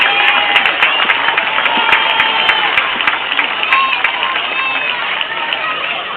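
A Little League opening day crowd at Pike Creek claps and cheers for the board of directors, with dense, steady applause and some shouting sustained throughout.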